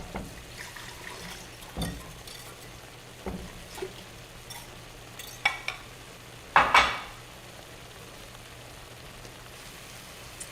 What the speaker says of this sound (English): So stir it occasionally and let it cook.